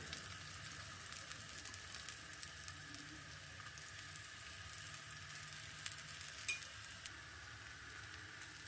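Dough fries in a pan of oil with a dense, even hiss and crackle that holds steady throughout, close and soft, with a few faint taps and no talking.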